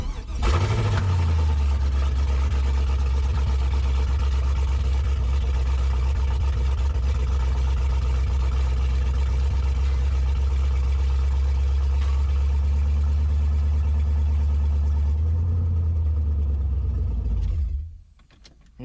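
An S10 truck with an LS engine swap runs loud and close with a steady low rumble that holds through most of the clip, then cuts out as the engine dies near the end.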